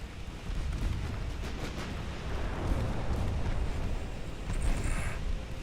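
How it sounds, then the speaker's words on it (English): Naval guns fire in the game Ultimate Admiral Dreadnoughts, including 11-inch guns, as a dense, continuous rumble of booming blasts and explosions, loud and sustained without pause, with no voices. "And now the 11-inch gun got a hit."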